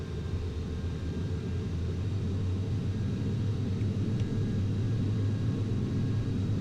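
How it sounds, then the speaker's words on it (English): A steady, full-throttle airplane engine roar fills the cockpit during a takeoff run in Microsoft Flight Simulator X, a constant deep rumble with a faint high whine, unchanging and uninterrupted. "let's just throttle up and get out of here. Probably a full throttle takeoff isn't the greatest idea"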